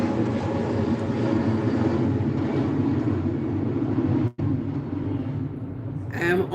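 An airplane passes overhead as a steady, broad rumbling roar that holds for several seconds, briefly cutting out once and resuming before fading.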